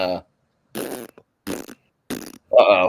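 A voice imitates fart noises with his mouth, making four short, buzzing bursts separated by brief silences, close and fairly loud, the last one longer and wetter.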